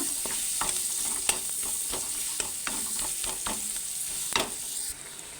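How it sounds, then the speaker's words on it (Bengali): Chopped onion and chillies sizzle in hot oil in a kadai while a spatula stirs them, with repeated sharp scraping clicks over a constant close frying hiss that fades slightly at the end. "কড়াইতে তেল দিয়ে দিয়েছি ফোড়ন দিয়ে দিলাম পেঁয়াজ কুচি লঙ্কা এগুলো সব ভালো করে নেড়ে নিলাম"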